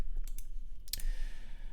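Mouse clicks in a computer workspace: a few sharp, quick clicks, then one louder click followed by a soft hum. There is no talking.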